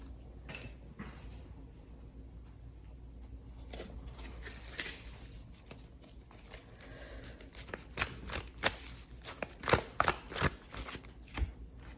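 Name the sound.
shuffling a deck of tarot cards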